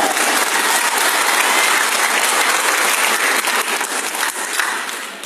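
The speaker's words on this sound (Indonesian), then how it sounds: "Tepuk tangan dulu untuk dekannya" An audience at a university engineering faculty alumni reunion claps for the dean in a dense, steady round of applause that fills the room and tapers slightly at the end.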